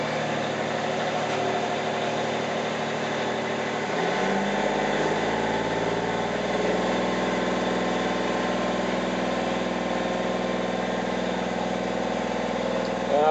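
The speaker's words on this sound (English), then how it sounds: "I'm going to kick up the engine RPM here a little bit, just so we can watch what we've got going on." Car engine idling during an alternator load test with a 140 amp alternator, a steady close hum whose low drone shifts upward around four seconds as the RPM is raised, then holds at the higher pitch.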